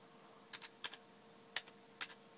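Keystrokes on a computer keyboard while a command is entered to boot Windows on a PS3: four short clusters of quick, fairly quiet taps, separated by brief pauses.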